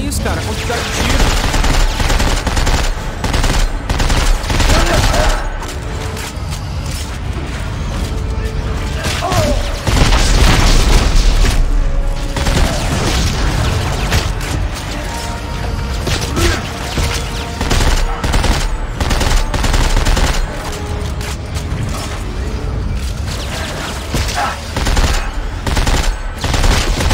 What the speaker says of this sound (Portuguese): Olha isso, cara, a quantidade de tiro